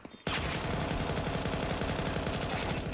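Sustained rapid automatic gunfire in Counter-Strike, loud and continuous for nearly three seconds after a brief quiet start, dense overlapping shots with no talk.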